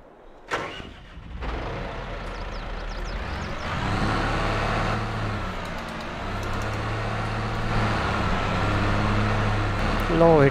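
A tractor engine in Farming Simulator 22 with an Indian mod, starting with a sharp burst and then settling into a steady, loud running hum that builds slightly toward the end, up close, with a voice talking over it.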